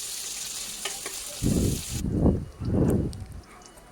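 Crushed small onions, dried red chillies and curry leaves sizzle in hot oil as a spoon stirs them in three strong, close sweeps over a steady background hiss, with no voices.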